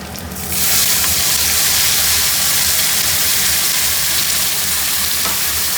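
Onion, tomato and ginger masala hits hot oil in a pan, bursting into a loud, steady sizzle that holds strong and even throughout, with no talking.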